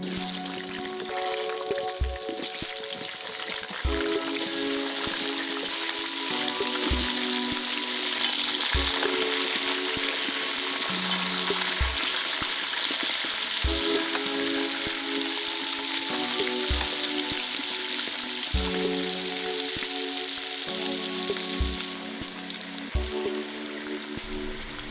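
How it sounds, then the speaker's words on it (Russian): Young potatoes fry in hot oil inside a kazan cauldron with a steady, dense sizzle that runs throughout, stirred now and then, with tonal background music playing underneath. "В это же масло добавляем молодой картофель и жарим,"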